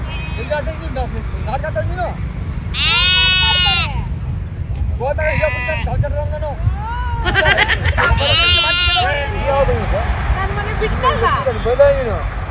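Several sheep bleat in loud, wavering bursts, some near and some farther off, with people talking and low vehicle rumble in the background.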